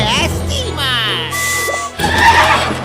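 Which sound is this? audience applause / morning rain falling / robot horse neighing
robot horse neighing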